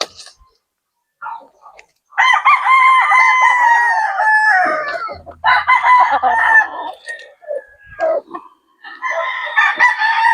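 Roosters at a backyard gamefowl breeder in Laguna crow loudly and repeatedly from close by, with long drawn-out calls overlapping one another and a few clucks in the gaps.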